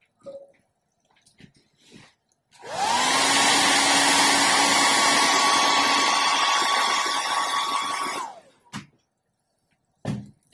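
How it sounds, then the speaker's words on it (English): A hair dryer switches on and blows steadily with a loud whirring roar for about six seconds onto a sculpture in progress, then cuts off; brief soft sounds around it. "So I'm gonna hit that with the hairdryer real quick."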